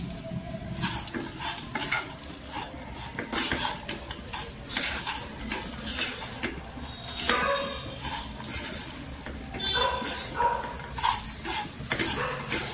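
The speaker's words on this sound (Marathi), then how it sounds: "इथे तेलावर परतून घ्यायची" Potato pieces coated in peanut powder stir-fried in oil for a fasting dish, with continuous sizzling and repeated scraping and clinking of a spatula against the pan, close and busy.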